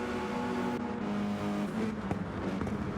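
Race cars lapping the Daytona track in a racing video game, a steady loud engine drone with layered harmonic whine running throughout, shifting pitch slightly as cars jostle in a slipstream.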